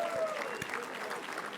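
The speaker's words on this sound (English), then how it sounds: "One more round of applause for the great white shark, Greg Norman." A golf event audience gives a short burst of steady applause, a dense even wash of clapping lasting under two seconds.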